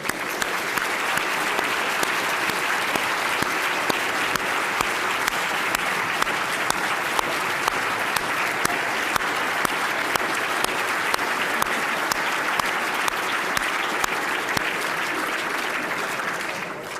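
Steady, full applause from a seated audience at an awards ceremony rolls on without a break for the whole stretch, welcoming the newly named fellows, with no voices over it.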